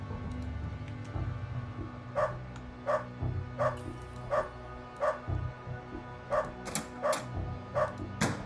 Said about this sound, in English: There are 3 to 4 dogs in this area here.